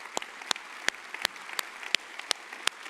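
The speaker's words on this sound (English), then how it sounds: "Let's give them a round of applause." A journalism conference audience claps in a light, sparse applause of about eight distinct, evenly spaced claps, fairly quiet and with no voices.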